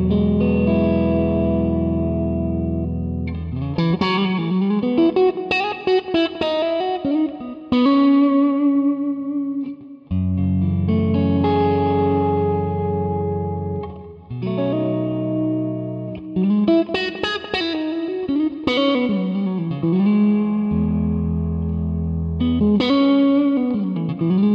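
A Fender Custom Shop limited edition Telecaster with dual P-90 pickups, played through a Quad Cortex AC30 amp patch, rings out in loud chords and riffs with chorus-like shimmer and light drive, alone without talk.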